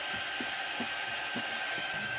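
A hair dryer blows steadily on a doll being painted for a creepy DIY makeover, its whirring hiss continuous and fairly loud throughout with no speech.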